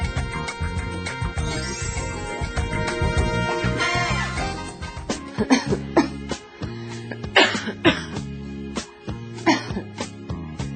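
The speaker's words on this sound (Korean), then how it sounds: "계속 기침이 나오더라고요" Several sharp coughs in a row, close and loud, from dry indoor air, breaking through music playing underneath.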